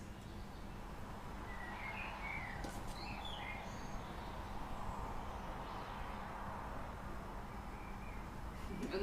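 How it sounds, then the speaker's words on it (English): Scattered bird chirps and brief song phrases sound faintly in the background outdoors, over a steady broadband hum, with no talk. "how lovely to hear the birds in the background as well"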